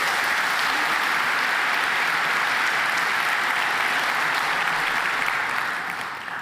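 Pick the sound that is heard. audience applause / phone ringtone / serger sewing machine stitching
audience applause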